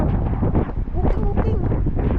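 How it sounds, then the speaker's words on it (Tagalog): Gusty wind buffets the microphone in a steady low rumble, with people talking close by throughout. "Hey, it's windy"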